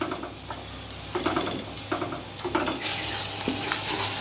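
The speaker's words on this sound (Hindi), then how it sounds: "चिकन मेरा अच्छी तरह भुन गया है" Chicken frying in ghee in a pot for haleem, a close, loud sizzle with bursts of stirring and scraping, the crackle swelling stronger toward the end.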